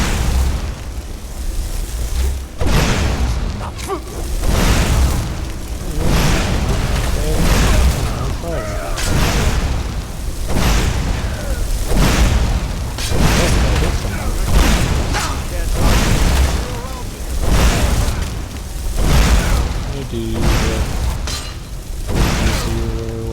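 A fire spell is cast repeatedly in Skyrim, a loud rushing roar of flame with heavy booming bursts that pulse about once a second. The sound runs continuously for the whole stretch, with a voice talking underneath.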